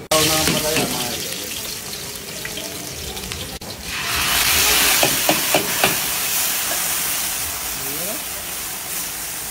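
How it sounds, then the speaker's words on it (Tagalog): Water running in a steady broadband hiss from an Alfred Watermax pump, rising louder partway through and holding on, with a few brief clunks and a voice speaking over it near the start. "Tubig galing Alfred Watermax mga idol."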